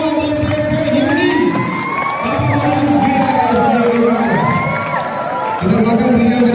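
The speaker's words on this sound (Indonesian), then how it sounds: "Tepuk tangan dulu untuk ketua DPP ini." A crowd cheers and shouts to welcome the HIMNI DPP chairman at a Maena dance competition, with loud, continuous mixed voices, whoops and rising calls, some high and child-like.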